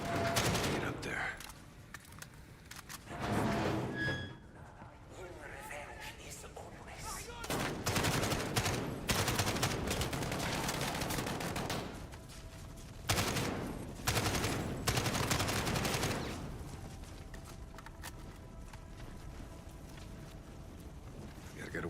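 Heavy gunfire fills a Call of Duty Modern Warfare battle in long, loud automatic bursts and sustained volleys, broken by short lulls where wind-like noise carries on underneath.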